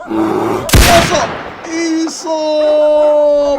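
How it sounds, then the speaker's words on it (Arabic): A single loud, sharp rifle shot cracks out during a hunt for predators such as a bear, followed by a brief echoing tail, with a voice before and after. "أطلق النار."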